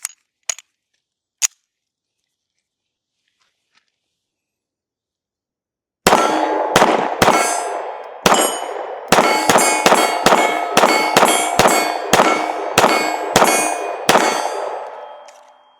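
Shots fired from a Fusion XF Pro pistol loaded with a Magpul PMAG magazine: a few faint metallic clicks, then about a dozen loud, sharp reports in a quick, slightly uneven string, each ringing briefly.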